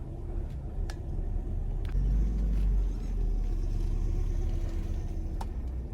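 A car drives along a road during a driving lesson, its engine giving a steady low rumble from inside the cabin that swells briefly midway, with a few light clicks and knocks over it.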